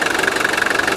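A 1983 Mercedes 240D diesel engine runs steadily close by, with a rapid, even clatter and rhythmic knocking pulse throughout a short stretch, no voices.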